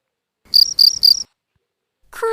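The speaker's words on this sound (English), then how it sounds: "cricket" Three quick bursts of high, shrill cricket chirping, loud and close, each a buzzing trill, followed after a pause by a different tonal call starting at the end.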